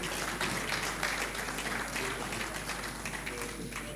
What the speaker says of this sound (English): Please let's put our hands together for him as he comes aboard